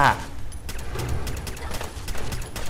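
Rapid gunfire in the Fallout 4 video game: a dense run of sharp shots that fades behind continuous game sound and a voice, with a brighter burst at the start.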